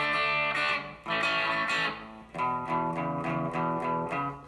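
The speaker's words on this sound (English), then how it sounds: "clean Fender with some little fuzz distortion" Electric guitar with a clean Fender tone and light fuzz distortion plays a shuffle chord riff, with sharp attacks and a gritty ringing sustain, no voices.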